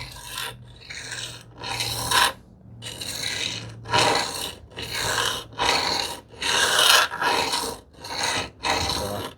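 Steel plane iron from a Stanley 78 scrub plane being sharpened freehand on its bevel, giving repeated rhythmic rasping strokes, about a dozen back-and-forth scrapes, close and clear, with no talking.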